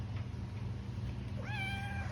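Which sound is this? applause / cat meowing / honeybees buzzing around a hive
cat meowing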